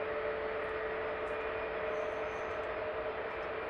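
A DHL Boeing 757 freighter passes at London Luton Airport, heard as a steady, even jet roar with a faint whine, moderately distant and unbroken over a few seconds.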